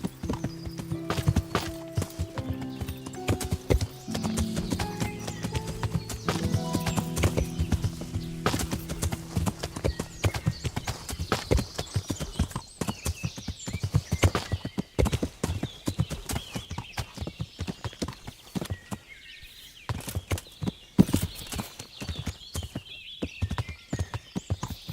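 A horse's hooves clip-clop steadily in the Kingdom Come: Deliverance video game, mixed with whinnies, tack noise and other game sounds, loud and close for about twenty-five seconds.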